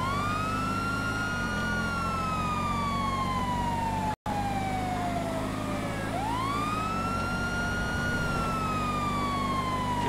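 A police siren in a video game wails loudly in repeated rising and falling sweeps, with a steady engine drone beneath and one brief dropout.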